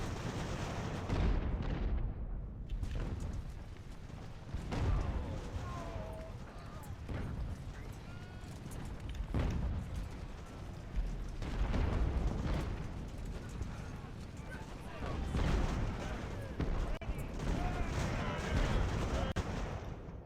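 Artillery and mortar fire in a naval strategy game, Ultimate Admiral Age of Sail, booms repeatedly in a dense, rumbling battle bed that runs throughout, while someone talks over it.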